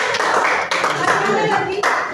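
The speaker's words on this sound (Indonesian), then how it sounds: "kasih tepuk tangan untuk" An audience clapping at a classroom or field-practice event, a loud, continuous patter of many hands mixed with voices talking and calling out over it.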